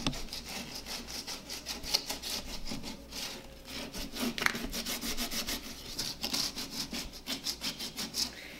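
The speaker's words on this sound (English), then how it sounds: "I'm going to follow it behind with my 120 grit block, and that's going to smooth out any of the edges" A 120 grit sanding block rubs over the carved details of a wooden Queen Anne chair in quick back-and-forth strokes, a soft rhythmic scratching close by.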